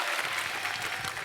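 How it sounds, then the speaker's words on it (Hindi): A studio audience claps through a comedy talk show taping, a steady, dense wash of applause filling the room at moderate loudness with no voices over it. "सो जोरदार तालियां।"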